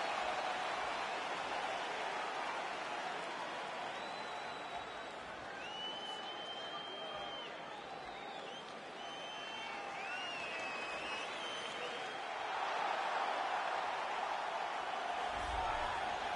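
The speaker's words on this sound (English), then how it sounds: "Well, what a pop from the crowd is this." A stadium crowd roars steadily in a UFC video game, a broad continuous wash of cheering that swells near the end, with faint whistles and voices inside it.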